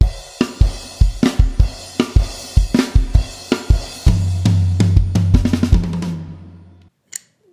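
A drum kit plays the accent pattern from a song, with accents falling on the offbeat 'ands'. Crisp, close hits run in a steady rhythmic stream with sustained cymbal wash in the middle section, ending with a single late hit after a pause.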